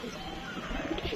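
A female pigeon coos softly on a rooftop in Gujranwala, one short low murmuring call, faint and close against quiet outdoor background.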